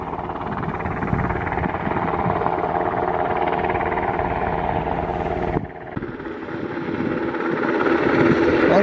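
Helicopter flying over the Sitka, Alaska coast, a loud continuous engine drone and rotor hum holding steady, briefly dipping partway through, then swelling again, with no talk.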